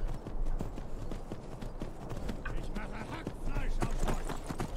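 Steady rhythmic hoofbeats of a horse ridden in the video game Skyrim, clip-clopping close and moderately loud throughout with faint background game sounds.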